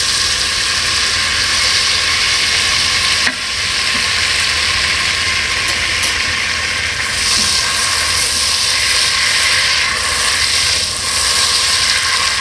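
Two sticks of butter with a little oil melt in a cooking pot on the stove, giving a steady, close, even sizzling hiss throughout with no talking.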